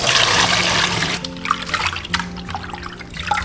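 Pig small intestines being rinsed in clean water in a kitchen, with running and sloshing water close up, trickling and splashing in irregular bursts.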